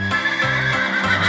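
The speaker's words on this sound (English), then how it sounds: "Here comes a horse." A horse whinnies loudly over a steady clip-clop of hooves, the neigh rising and falling in several bursts close by, with no voices.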